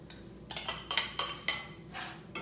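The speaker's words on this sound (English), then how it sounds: "just put the shrimp on there and then just kind of stir it around a little bit" Shrimp and broccoli seasoned with cumin and lemon are stirred in a pan, giving about six distinct scraping clinks of a utensil against the pan at a loose, irregular pace, close by and fairly quiet.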